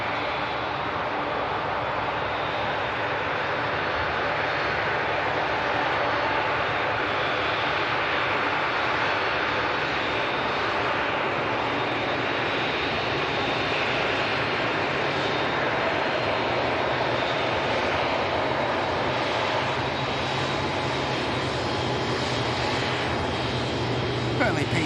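An Airbus A380 taxiing briskly at Manchester Airport gives off a continuous, broad jet-engine roar that holds loud and steady throughout, with some talk mixed in.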